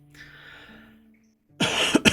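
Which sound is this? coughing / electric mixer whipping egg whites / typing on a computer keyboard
coughing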